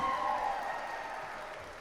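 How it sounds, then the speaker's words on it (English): A wedding crowd applauds the bride in a dense, steady wash of clapping that fades slightly over a couple of seconds. "Let's give her a round of applause"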